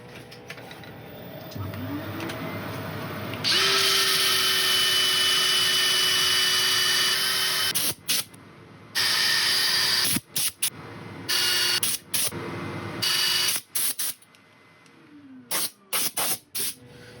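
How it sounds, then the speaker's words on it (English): A loud, steady hissing whir of power sanding a wooden bowl on a lathe runs for several seconds, then cuts in and out in short bursts with brief quiet gaps between. "I'll start set up for sanding."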